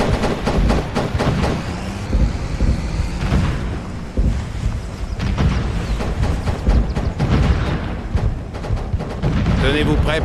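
Artillery barrage shells exploding in Operation Flashpoint: Dragon Rising, with repeated heavy booms and thuds mixed with gunfire in a dense, loud, continuous battle soundscape.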